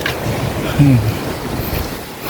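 Broad rushing surf and wind wash over the whole stretch, a steady roar of strong sea waves close by on a sandless Croatian shore, with a slight swell midway.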